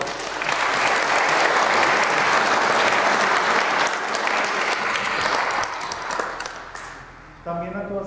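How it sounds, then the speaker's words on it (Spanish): Sustained congregation applause at a Sunday church service, loud and dense for several seconds, fading out toward the end as a voice begins speaking. "Les damos un fuerte aplauso."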